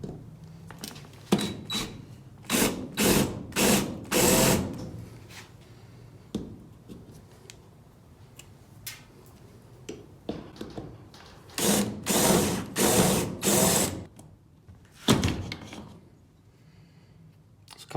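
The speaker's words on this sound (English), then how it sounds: "We'll drill these out." Rivets on a 1970 Ford F250 truck camper shell are drilled out with a power drill, making repeated short bursts of whirring and grinding with pauses between them, close and fairly loud, with no talking.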